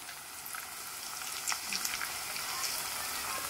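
Egg and brinjal pieces frying in a pan for a brinjal, raw mango and egg curry, giving a steady broadband sizzle with a few brief louder crackles and no voice.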